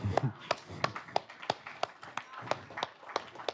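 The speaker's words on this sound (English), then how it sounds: "please stand up and clap for each other" Students standing in a university lecture hall for an introductory programming course clap for one another, sharp separate hand claps scattered irregularly over three and a half seconds. The claps are fairly faint and mixed with low murmuring voices.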